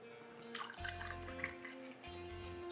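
Knob Creek bourbon is poured from a bottle into cocktail glasses for a Boulevardier, giving two quiet gurgling streams of liquid splashing into glass with a short pause between.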